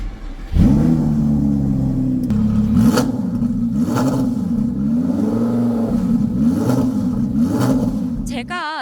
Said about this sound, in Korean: 배기음 먼저 들려드릴게요.